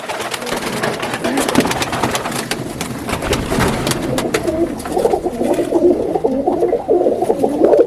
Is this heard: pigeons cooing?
yes